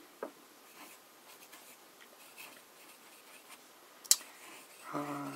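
An italic-nib fountain pen scratches softly across paper while writing in Lindauer Blau ink, with faint, close strokes, a couple of sharper ticks, and a brief hum near the end.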